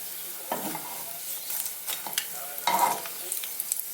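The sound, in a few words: plantains frying in oil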